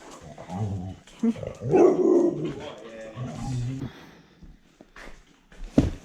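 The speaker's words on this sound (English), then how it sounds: "good dogs." Dogs in a garage during a Mk3 Supra engine swap give short barks and whimpers close by, mixed with someone talking over them.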